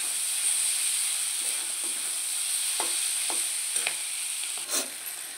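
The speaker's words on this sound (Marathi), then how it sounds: "गाजर व मिरची टाकून 1-2 मिनिट परतून घ्यायचं आहे" Carrots and chillies sauté in a pan for cheese butter pasta with a soft, steady sizzle, broken by several quick scraping stirs, all fairly quiet and close.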